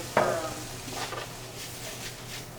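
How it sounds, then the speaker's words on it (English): Pasta tossed and flipped in a hot pan with truffle oil for vegan scallops, a sharp clatter followed by a steady close sizzle and stirring. "Toss the pasta in. I'll add a little bit more truffle oil if need be. Flip it again."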